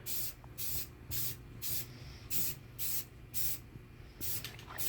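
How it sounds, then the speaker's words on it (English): Spray can of flat black paint coating a car center cap: nine or ten short, loud hissing bursts in a steady rhythm, each about a third of a second, with quiet gaps between and no talking. "So we have here another can of flat black."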